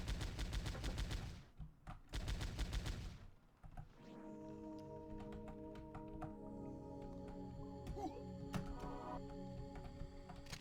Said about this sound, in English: flamethrower in case there's anything near